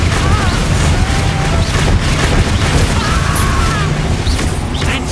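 Confringo spell blast in Hogwarts Legacy combat, a loud dense crashing boom with crackling debris, layered among the continuous clatter of a spell fight.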